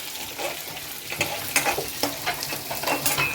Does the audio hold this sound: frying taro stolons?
yes